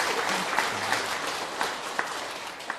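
Audience clapping at a Buddhist lecture on a daily prayer text, a dense steady patter of many hands with a few sharper individual claps standing out, lasting throughout.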